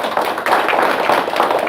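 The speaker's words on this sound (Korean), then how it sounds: "우리 고생하신 분께 박수 한번 쳐주시고." Applause from the audience at a public lecture on feng shui, a dense, steady patter of many hands clapping at moderate loudness throughout, with no talking over it.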